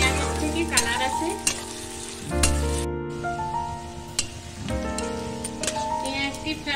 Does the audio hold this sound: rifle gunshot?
no